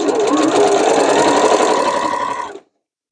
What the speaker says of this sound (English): When I'm sewing across here, I'm just going back and forth on that an extra time so that it reinforces where the seams are.